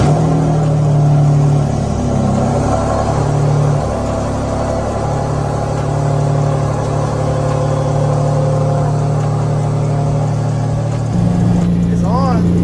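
An Infiniti G37 IPL engine runs with a newly installed Soho single turbo kit, idling steadily and loud and close, with a brief rev near the end.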